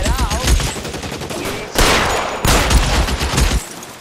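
Rapid gunfire in an L.A. Noire shootout, dense bursts of close, loud shots and machine-gun fire in clustered volleys, with someone shouting over the fighting.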